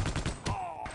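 A quick burst of automatic gunfire in the video game Half-Life: Opposing Force: four or five rapid, loud shots and a final crack, all within under a second.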